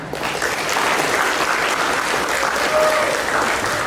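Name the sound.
applause for the organising committee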